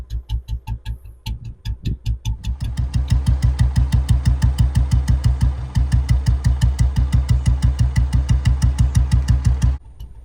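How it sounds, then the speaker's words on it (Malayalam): A 1986 Royal Enfield Bullet 350 cast-iron engine idles close by with a loud, even, regular thump, each pulse distinct, running steadily for several seconds before stopping abruptly, with no talking. "So this is a proper idling of a Royal Enfield Bullet 350."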